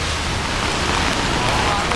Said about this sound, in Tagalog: Lakas talaga ng ulan, eh. May ng hangin.